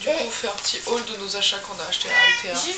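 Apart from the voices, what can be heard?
cat meowing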